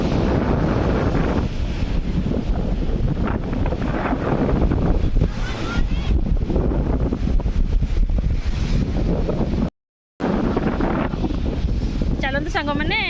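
Strong sea wind buffets the microphone at Puri beach with steady surf behind it, loud and continuous for most of the stretch, a brief dropout near the end, and voices faintly mixed in.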